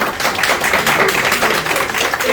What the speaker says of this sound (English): let's give him a round of applause while he comes